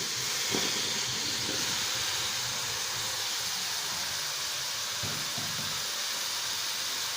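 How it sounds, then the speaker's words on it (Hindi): Aubergine fries with masala in a pan, giving a steady, close hiss and sizzle with a few faint scraping knocks and no talking. "बैंगन को ऐड करके हमने 1 से 2 मिनट तक भूनना है"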